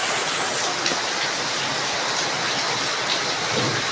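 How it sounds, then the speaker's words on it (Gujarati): Heavy rain pours down steadily in Surendranagar, Gujarat, a dense, continuous roar of drops close by with no letup. "બહુ વધુ વરસાદ પડી રહ્યો છે"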